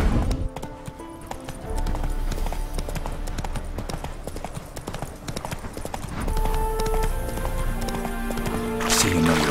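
Geralt's horse Roach in The Witcher 3 clip-clopping along with steady hoofbeats over game music, spooked and whinnying near the end, with brief speech.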